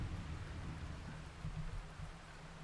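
A stormy sea in the sailing game Sailwind, with steady heavy rain and a deep thunder rumble rolling underneath throughout. No voices.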